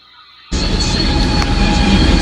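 A train passes at close range, a loud, sustained roar of wheels on rails that bursts in suddenly after a quiet start and holds steady with high metallic ringing overtones.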